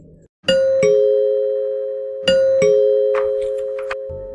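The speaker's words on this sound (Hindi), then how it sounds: "कुछ ही देर में बाहर की घंटी दोबारा बजी।" A doorbell rings twice in a clear ding-dong, each chime ringing out and slowly decaying, with a few faint knocks between.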